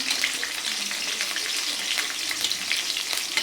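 Potatoes and green chillies fry in a pan with a continuous crackling sizzle at even loudness, broken by faint stirring noises and no voices.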